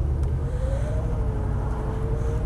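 A 1972 Mercedes-Benz 280 SE 3.5 V8 (W108) pulls away from a stop, its engine rising in a smooth low drone with a climbing whine, heard from inside the car and loud throughout.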